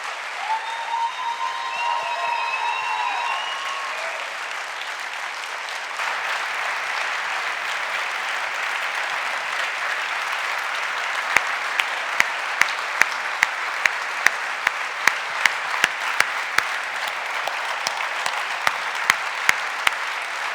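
Sustained audience applause at a talk event, a steady crowd clapping for about twenty seconds, with faint tonal sounds early on and a few sharper, closer individual claps standing out in the second half.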